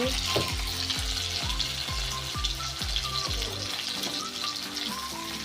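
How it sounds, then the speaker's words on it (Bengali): Onions fry in oil on a high flame, a steady loud sizzle with repeated clinks of a stirring utensil against the pan. "হাই ফ্লেমে দিয়ে আমরা পেঁয়াজটা লালচে করে নেব"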